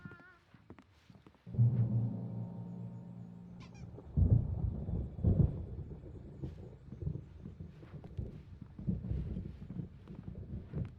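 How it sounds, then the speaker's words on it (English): A thunderstorm rolls through the video game Alan Wake Remastered, with deep thunder rumbles and crackles swelling at intervals over a dark, windy ambience. "There's a storm coming. Oh, what a storm."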